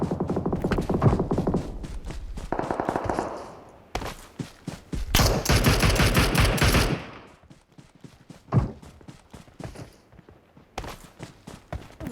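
Gunfire from a Mosin rifle in the mobile game PUBG Mobile, heard as a dense run of sharp shots at close range, then a quieter stretch with scattered shots and footsteps.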